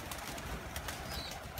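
Pigeons cooing in a bird loft, soft repeated low coos at moderate distance over a faint, even background.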